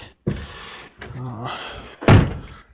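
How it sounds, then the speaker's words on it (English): Car door of a 1963.5 Ford Galaxie closing: a dull thunk early, some movement and a voice, then a loud, solid slam near the end. "So door closes good, solid, not really no wiggle in the hinges."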